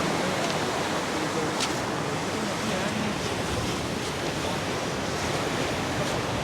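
Surf at Zumbarlo beach near Can Picafort gives a continuous, even wash of broadband noise with some wind, heard from nearby and with no talk.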